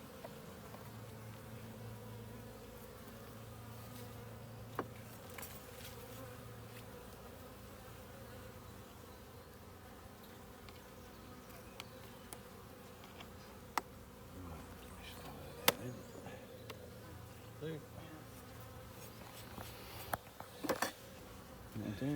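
Honey bees buzz around a hive outdoors, a dense, continuous hum of many insects close by with occasional louder fly-bys and faint clicks and bumps.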